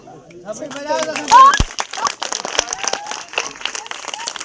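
Scattered clapping from an audience at a school function rises briefly then thins into separate claps, mixed with talking voices and crowd chatter.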